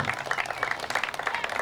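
An audience claps at a cricket T20 tournament award ceremony, producing a dense, continuous patter of many hands that stays steady and fairly loud for about two seconds.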